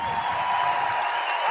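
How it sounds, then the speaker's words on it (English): A small group claps together in a steady, even patter of applause that carries on without a break, close by and moderately loud, with no voices rising over it. "Round of applause"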